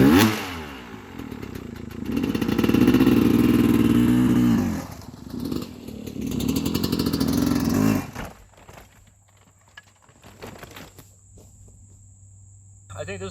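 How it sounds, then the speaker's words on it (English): An old MX dirt bike on a hard enduro trail, its engine putting loudly and rising as it crawls slowly over large logs, then dropping away to quiet with a steady insect chirp underneath. "Let's do a couple large logs back to back,"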